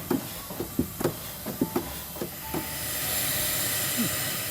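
A steam car's boiler hissing as pressure builds, preceded by a series of sharp mechanical ticks and clicks, then a steady broad hiss swelling in over the second half, close by.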